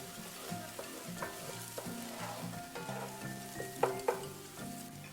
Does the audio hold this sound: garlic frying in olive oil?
yes